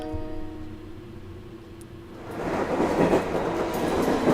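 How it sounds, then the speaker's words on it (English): A train in the Corpse Party: Book of Shadows game starts with a low steady hum, then swells into a loud rumbling roll of wheels on rails. "hopped on the very next train we could find out to the countryside"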